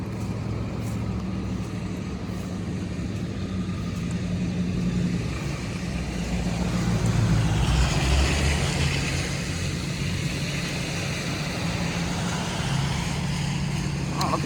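Traffic moves through a busy part of Greenwood, South Carolina, near traffic lights, with a continuous wash of passing cars and a louder vehicle swelling past midway.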